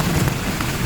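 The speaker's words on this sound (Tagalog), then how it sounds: "Kasi talagang as in malakas pa ng ulan." Heavy rain pours down at a stone boat in a Chinese garden, a dense, loud, unbroken hiss of drops on surfaces with no voices.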